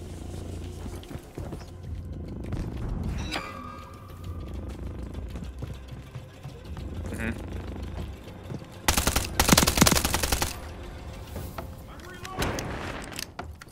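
Heavy automatic gunfire in Call of Duty Modern Warfare 3, dense bursts of rapid shots, loudest in a sustained volley mid-way, mixed with other battle noise and scattered clanks.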